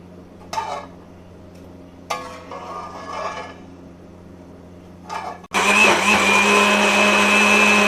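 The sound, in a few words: blender blending onions and tomatoes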